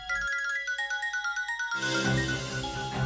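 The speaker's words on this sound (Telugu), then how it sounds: "బాబాయ్ ఫోన్ రింగ్ అవుతుంది." A mobile phone ringtone plays as a repeating melodic tone pattern, then a louder, fuller musical passage joins in, with no talking over it.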